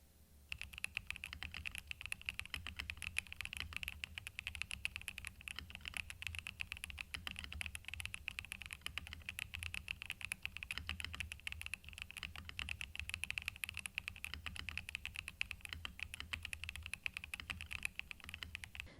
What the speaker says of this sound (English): almost all the KBD Craft keyboards have that Lego building sound when typing.